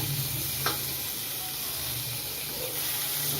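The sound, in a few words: onions and tomato sautéing in a pan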